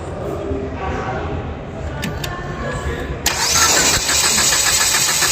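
A car engine cranks on a lead-acid battery that is under test, then catches and runs. Steady whirring cranking is followed by a louder, busier idle after the start, close by with some background talk.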